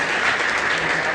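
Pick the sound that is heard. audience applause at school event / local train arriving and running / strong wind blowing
audience applause at school event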